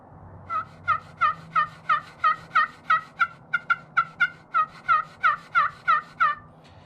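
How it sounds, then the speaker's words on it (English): Turkey pot call with a laminate surface worked by an Osage striker, giving a loud, high-pitched run of about seventeen evenly spaced yelps over roughly seven seconds, close and alone with no talking. "you can really hear that loud high pitch out of that Osage on that laminate"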